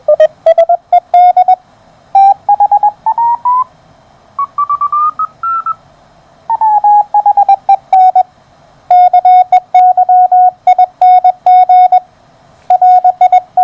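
Regenerative receiver on the 30 meter amateur band, unfiltered, heard through a speaker with a 650–700 Hz resonance: steady Morse code tones keyed in bursts, with short chirpy shifts in pitch between groups, all fairly loud, no voices.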